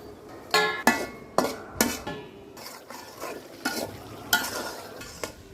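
Potatoes being stir-fried with chilli and coriander spice paste for a prawn curry, a spatula scraping a pan in repeated sharp strokes over a soft, steady sizzle, close and clear with no talking.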